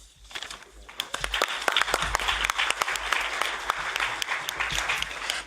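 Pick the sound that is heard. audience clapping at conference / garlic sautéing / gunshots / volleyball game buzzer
audience clapping at conference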